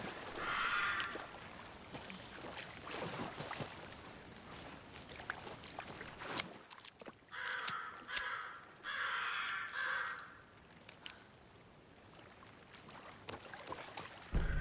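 Crows caw loudly in repeated harsh bursts in Alan Wake 2, close and prominent over a murky ambient outdoor bed, in several clustered volleys with quieter gaps between them.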